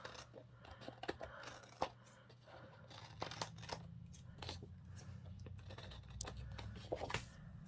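Scissors snip through paper in a quiet planner-decorating session, with a run of short, sharp cuts and rustles at uneven intervals, close and faint.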